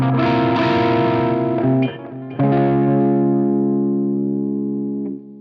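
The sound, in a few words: electric guitar through Sheriff 22 amp, bridge pickup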